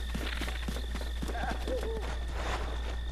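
A goat charging across a mountain pass in the video game Zelda: Breath of the Wild, with rapid hoof clatter under a steady game hum and a few short animal calls.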